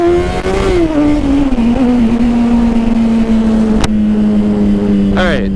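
A motorcycle pulls away from a traffic light on a small-town road: a loud, steady engine drone with wind rush, its pitch sliding slightly, then a quick rising sweep near the end.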